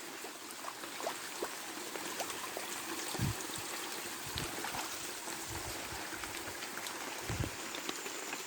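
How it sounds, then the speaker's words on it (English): Steady wash of rainwater running off a road during flooding on a farm in Jamaica, trickling and streaming along the surface, continuous and fairly close, with a few soft low thuds. "It's the water, it's the rainwater off the road."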